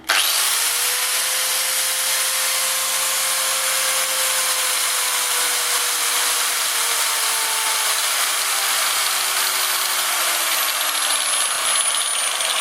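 An angle grinder powered through a homemade voltage regulator whines steadily at high pitch for the whole stretch, loud and continuous with a slight drift in tone and no voices.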